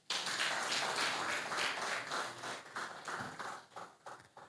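Audience applause at a maternal and child health accountability event, a steady patter of many hands clapping that swells, holds, and then thins out unevenly over several seconds, heard from a distance and moderately quiet.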